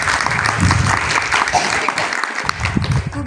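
Applause from a gathered group, a continuous rustling patter of clapping hands at moderate loudness with uneven bursts, a voice briefly audible beneath it.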